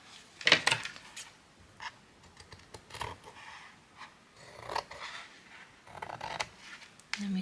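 Paper being cut with scissors to trim off a ruffled piece for a journal, a few close, crisp snips and rustles spread unevenly with quiet gaps between them.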